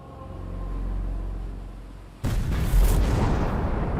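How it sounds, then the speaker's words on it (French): A sudden heavy boom of rocket explosions, loud and close, ends a low rumble and is followed by sustained crackling roar and a second burst, evoking wartime submarine-launched rocket fire at night. "Le silence est rompu par le tonnerre des explosions."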